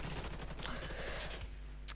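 A burst of gunfire in the game Warface, rapid shots crackling over a dense, busy mix, then a brief quieter stretch ending in one sharp crack.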